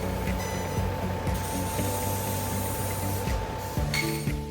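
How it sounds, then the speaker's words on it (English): A steel plate cutting machine runs in a steel structure fabrication shop, giving a steady, fairly loud mechanical whir with ratchet-like clicking and a constant tonal hum, with no talking. "Place the steel plates into the cutting machine for cutting."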